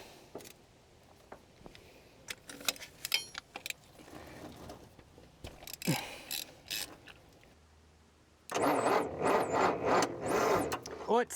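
A ratchet wrench clicks in short bursts as a spark plug is worked out of a truck engine, with metallic scraping and a voice speaking, followed by a louder rattling mechanical stretch.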